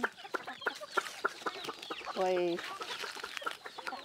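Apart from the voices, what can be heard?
chickens and roosters clucking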